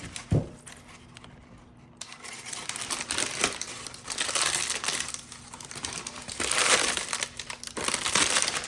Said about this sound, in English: So you're just holding the parchment paper, basically just scrunching it up,